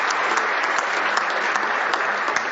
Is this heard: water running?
no